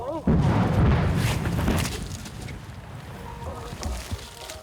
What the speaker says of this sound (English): Then accidentally, he detonates too soon.